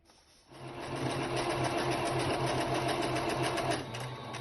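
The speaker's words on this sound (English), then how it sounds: "Now I'll go about stitching it." A sewing machine stitches a fabric face mask, its steady motor whir and rapid needle chatter running continuously at close range after a brief quiet start, with no talking.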